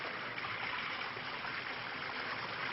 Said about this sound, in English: the water trickles out the little holes, making a small shower